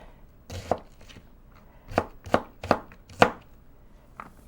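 Onions being chopped with a small knife on a board: six sharp, evenly spaced blade strikes in two bursts, close and clear, with no voices.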